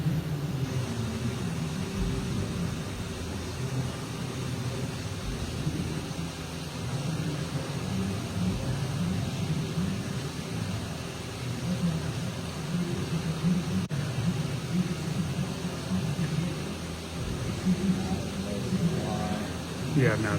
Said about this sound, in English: Now it's going to cut a 4-inch long slot, feeding into the part, and then it's going to cut a 4-inch L.